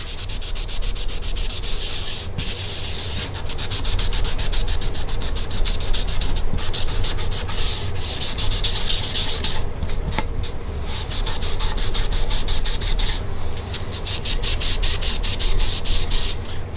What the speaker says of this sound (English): you can come back and sand.